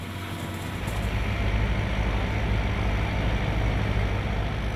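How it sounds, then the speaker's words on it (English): Tractor-pulled fruit tree harvester rolling toward the listener, a loud, steady low engine drone that swells early and then holds a constant rumble, with no talk. "What you're looking at coming towards you is the harvester. It's pulled with a tractor"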